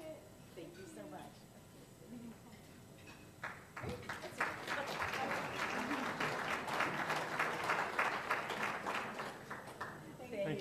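At a Rotary Club meeting, a room of people breaks into applause after a few seconds of talk. The clapping swells and then holds at a steady, moderate level as a dense patter.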